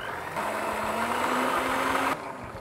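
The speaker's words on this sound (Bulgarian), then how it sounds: "Просто с миксер трябва да разбием яйцата и захарта, докато побелеят." An electric hand mixer whirs steadily in a bowl of eggs and sugar, a close, even motor drone that starts just after the opening and cuts off shortly before the end.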